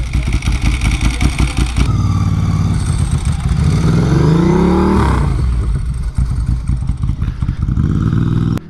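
A Ducati Pikes Peak motorcycle engine revs loud and close, climbing through several throttle blips into a sustained high-revving wail before dropping back to a rumbling idle, with no talk over it.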